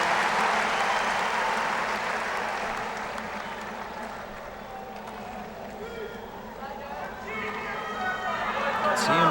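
Crowd at a 2009 US Open tennis match between Nadal and Monfils applauding a great point, a broad wash of clapping and cheering that dips then swells again, with a commentator's voice over it.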